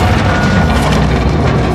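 RPG rocket explosion in the video game Modern Warfare II, heard as a loud, sustained rumbling boom that fills the whole short stretch with dense low roar.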